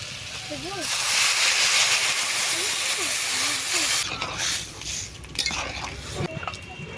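Water poured into a pan of frying spices with chili powder and turmeric, giving a loud steaming hiss that then fades into softer bubbling and clatter, with a voice speaking in the background.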